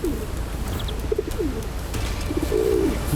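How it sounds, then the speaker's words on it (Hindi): A pigeon-like bird coos in a few soft, low, rounded phrases at a middle distance, heard at high altitude above 12,000 feet in the Amarnath area, over a steady background hiss with no talking. "ये तो कबूतर जैसे किसी पक्षी की आवाज लग रही थी"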